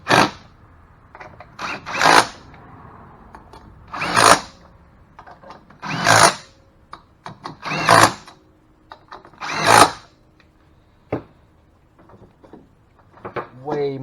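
A power tool tightens screws back into a golf cart clutch after a spring change, sounding as about seven short, sharp bursts spaced a couple of seconds apart, with quiet gaps and light handling noise between them.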